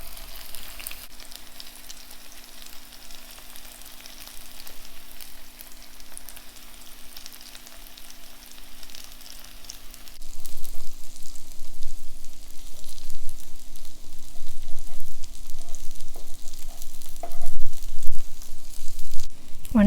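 Beaten egg going into a hot pan for a bitter gourd omelette, a quiet hiss that swells into a louder, crackling fry about halfway through and keeps sizzling steadily.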